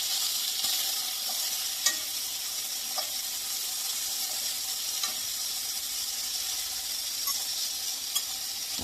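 Small pieces of food fry in bacon grease for a family home-cooked meal, giving a constant close hiss and crackle with occasional faint taps of a utensil, no voices.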